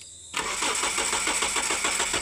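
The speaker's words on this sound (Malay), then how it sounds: "Kita try start tengok dia hidup kok tidak." A car engine with a suspected internal fault cranks on a start attempt, the starter motor churning in a fast, even rhythm after a sudden loud onset, close up and without any speech.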